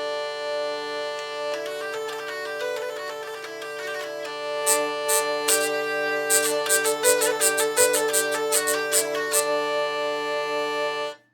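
A hurdy-gurdy sounds its melody, drone and trumpet strings together on the rosined wheel: a sustained buzzing drone under a moving tune, with rapid rhythmic rasping trumpet-string chatter bursting in over the second half, then stopping abruptly.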